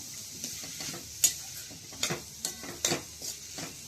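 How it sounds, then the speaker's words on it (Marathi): Pumpkin being stirred and roasted in a pan for pumpkin kheer, faint scraping and clicking strokes of a spoon against the pan at irregular intervals over a low background hiss. "असं छान भाजून घ्यायचं आपल्याला।"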